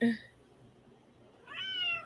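A house cat meows twice at a distance, one short call at the start and a longer rising meow near the end, with a quiet room in between.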